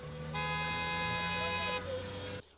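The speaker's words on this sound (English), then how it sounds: "Milling crowd, impatient cars honking," A sustained car horn blares for over a second amid busy Lagos city traffic, with constant road noise and engine rumble underneath and faint voices in the background.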